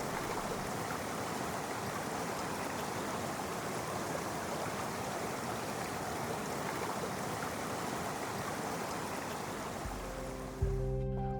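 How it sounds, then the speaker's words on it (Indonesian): A river stream flows steadily in the Gayo highlands of Aceh, a dense, continuous rush of water holding even throughout, with a brief low thump and tonal hum near the end. "mendengar suara aliran sungai, ini bisa ngurangi stres, ningkatin moodnya kita"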